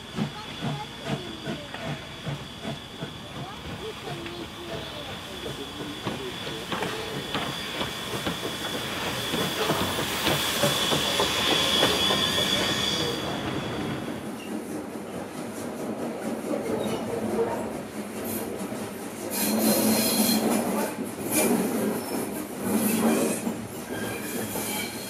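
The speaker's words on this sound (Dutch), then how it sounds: "Naar de andere kant gereden om zo de trein weer terug te trekken naar Simpelveld." A steam train rolls along the rails near Simpelveld station with rhythmic clanking and hissing, wheels squealing and the rumble swelling as it passes close.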